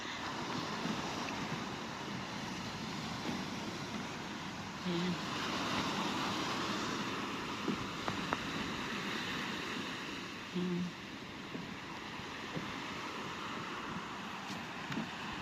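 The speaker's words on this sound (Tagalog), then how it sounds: "Yung hampas ng dagat." Sea surf breaking along the shore at Candelaria, Tenerife, a continuous broad wash with wind noise on the microphone, close and steady, with someone briefly speaking over it.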